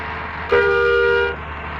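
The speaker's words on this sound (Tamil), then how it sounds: "எதுக்கும் ஹார்ன் அடிச்சுட்டே போகணும்." A bus horn sounds once in a bus driving video game, a single sustained honk of just under a second over a low engine hum.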